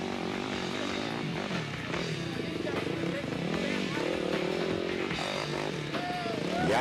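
At an off-road race, a Yamaha four-stroke racing motorcycle gives a loud, rising and falling engine drone with rapid revving, while a commentator talks over it.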